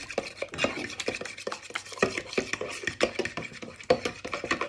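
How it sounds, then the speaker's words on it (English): Seasoned eggs whisked in a bowl for a Spanish tortilla, a quick run of rapid clinking and tapping against the bowl, close and steady with no talk. "You just give them a quick little mix in"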